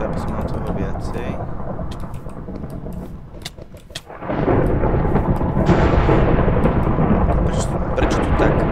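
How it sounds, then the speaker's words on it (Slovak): Loud rumbling thunder with sharp crackles from lightning strikes in Minecraft SkyWars, surging abruptly louder midway and staying heavy to the end, mixed with faint game-like noises. "tieto blesky búchajú"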